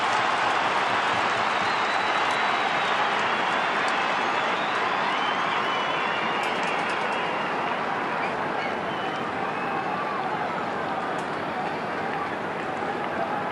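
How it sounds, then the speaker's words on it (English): Essendon supporters at Etihad Stadium during an AFL match against Port Adelaide, a large crowd roaring and singing together in a dense, sustained wash of voices that stays loud and steady throughout. "And they sing as one."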